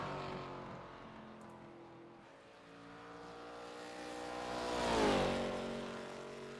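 A NASCAR ARCA Series race car runs down the backstretch, its engine drone rising as it approaches, swelling loudest and dropping in pitch as it passes close, then fading away.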